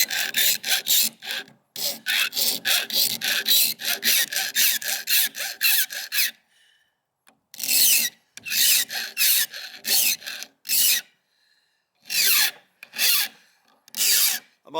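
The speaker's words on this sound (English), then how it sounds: "I pull this back and forth, back and forth. I know that's not the way you're supposed to file" A hand file rasps back and forth across an OTF utility knife in quick, steady strokes, stopping briefly twice before resuming in shorter bursts, loud and close.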